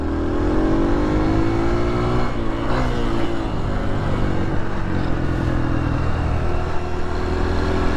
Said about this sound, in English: Dirt bikes going around dirt corners is a lot different than a side-by-side, especially at 850.